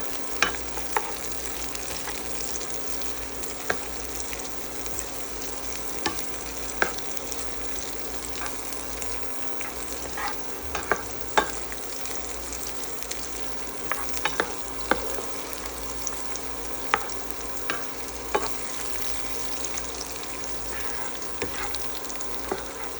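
Guanciale fries in a pan for tagliatelle with porcini, a steady dense sizzle running throughout with irregular scraping stirs and small clicks of the utensil against the pan, close and continuous with no talking.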